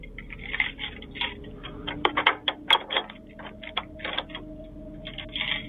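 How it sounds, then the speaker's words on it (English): Quick metallic clicks and scraping taps come in irregular bursts, close up, like a rake working the pins of a lock. "it could be the sound of a lock-picking rake"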